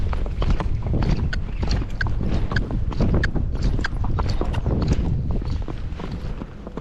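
Tennessee Walking Horse hooves cantering on a dirt trail by Folsom Lake, a quick continuous drumming of hoofbeats heard close up, loud and steady throughout.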